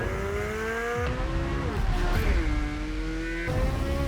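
A Corvette C8 Z06 races around the Circuit of the Americas, its loud exhaust wailing steadily with clear drops as it shifts gears, then the pitch climbs again, all continuous and close.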